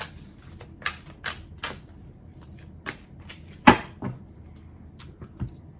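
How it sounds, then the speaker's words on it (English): Tarot cards shuffle and snap as a card is drawn from the deck, a series of crisp papery flicks and taps spaced irregularly, close and clear, with one louder slap near the end and no voices. "Let me get a card for you from this deck"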